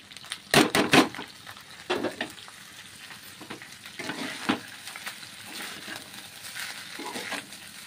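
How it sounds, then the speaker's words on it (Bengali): Rice is poured into cooked meat in a pot for homemade biryani, then stirred, giving a few sharp scraping and clattering bursts over a soft, steady sizzle. "মাংসের মধ্যেই ভাতটা ঢেলে দিলাম।"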